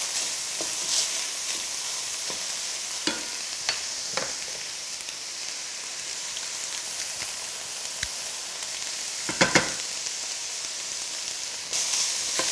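Browned mince fries in a pan with mushrooms, chilli and garlic for lasagne, giving a steady soft sizzle. Occasional louder scrapes and knocks of stirring break it up, and a brief burst comes near the end.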